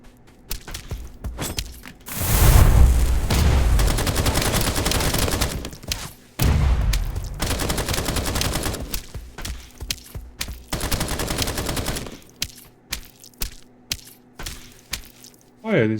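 Dense bursts of automatic gunfire in Escape from Duckov roar loudly in two long volleys separated by brief pauses, followed by scattered footsteps and lighter clicks.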